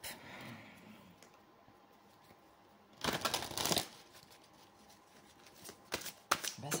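Playing cards from a deck being handled and set down, with a short crisp burst of riffling shuffles midway and another quick flurry of card snaps near the end over a quiet room.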